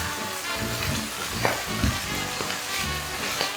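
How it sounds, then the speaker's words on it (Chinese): Potato, carrot, cabbage, kelp and tofu stir-fry in sesame oil for vegan Korean jajangmyeon, a continuous loud sizzle broken by repeated scraping stirs of the pan. "淋上芝麻油，翻炒一下"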